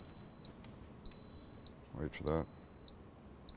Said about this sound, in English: The machine just keeps beeping.